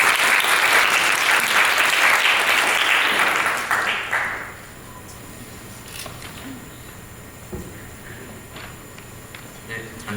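An audience at a student club curriculum presentation applauds loudly and densely for about four seconds, then the clapping drops away to quiet room noise with scattered faint knocks and shuffles.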